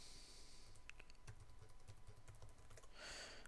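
Keys on a computer keyboard click in a quick irregular run as a password is typed, soft and close, with no voices.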